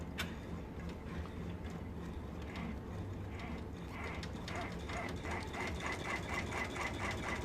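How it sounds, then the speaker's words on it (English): Two embroidery machines stitch a basting box, giving a faint, steady mechanical clatter with rapid rhythmic ticking that grows more regular toward the end, heard at a moderate distance. "So both machines are starting with a basting box."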